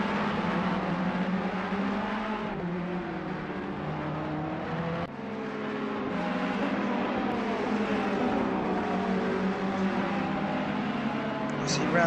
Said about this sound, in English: You can see the Ferrari bouncing over the inside curves there.